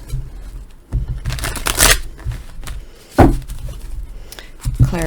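Tarot cards being shuffled by hand, a run of close crisp riffling and shuffling bursts with brief pauses between them, fairly loud and with no talk over it.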